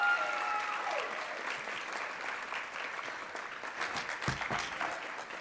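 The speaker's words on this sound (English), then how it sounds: "Please give Sabina another round of applause." Audience applause for Sabina at an awards ceremony, steady sustained clapping from a crowd in a hall, with a brief voice near the end.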